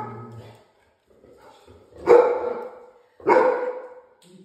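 A dog barks twice, close and loud, with the second bark about a second after the first, following a quieter stretch of indoor sound.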